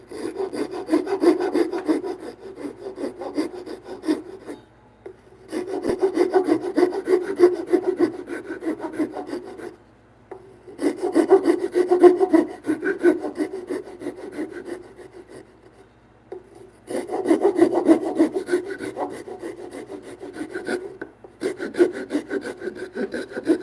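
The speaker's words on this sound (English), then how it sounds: "I don't mind blowing out the saw now because this is my trusty old saw" An old hand saw cuts through timber in long rhythmic bouts of rasping strokes, pausing briefly between four separate runs, close up with no talking.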